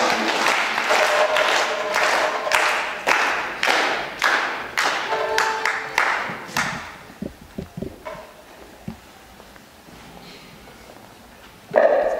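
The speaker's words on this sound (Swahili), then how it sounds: "Tuombe makofi kwa" Applause from an audience at a Catholic diocesan gathering in Rulenge, greeting Bishop Severino Wangui; several bursts of clapping that fade into scattered claps and thuds before a loud final burst.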